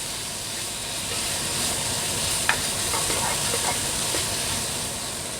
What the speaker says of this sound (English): So I'm just going to pop those red chili in there.